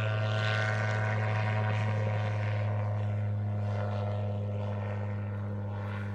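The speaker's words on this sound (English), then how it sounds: "this little machine has a very good power-to-weight ratio in spite of the fact that the Rotax 914 engine pushes out just 115 horsepower" An autogyro powered by a 115-horsepower Rotax 914 engine flies at an air festival at Duxford, giving a steady, droning engine and propeller hum that holds loud and even throughout, gradually easing slightly.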